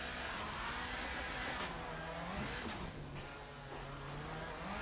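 A racing car engine in Assetto Corsa Evo drones steadily and rises in pitch as it accelerates at Pikes Peak, with a continuous loud motor tone throughout.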